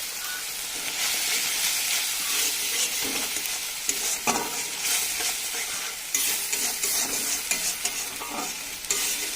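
Spices with salt and turmeric being stir-fried for a cauliflower and potato curry, a steady loud sizzle with scraping stirs throughout.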